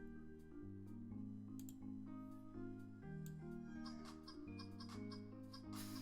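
Chicken clucking sound effect played on a livestream over a bouncy, steady tune, with short cackling bursts repeating near the end and no talking.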